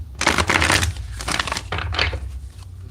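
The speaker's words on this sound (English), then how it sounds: "Three shuffles here." A deck of tarot cards is shuffled by hand in three quick bursts of papery riffling and crinkling, close and fairly loud, with brief pauses between.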